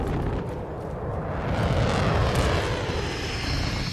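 A VTOL aircraft in Modern Warfare 2 roars overhead as a loud, steady broadband engine drone that swells slightly midway and holds throughout, with no talk.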